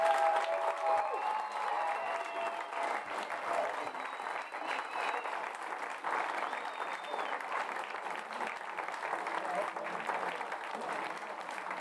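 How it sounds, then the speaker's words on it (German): Dense, sustained applause from a crowd at an American football team's runner-up celebration for the Biberach Beavers in Regionalliga Südwest 2023, with a steady roar of clapping lasting throughout. "das ist einen wahnsinnig großen Applaus wert"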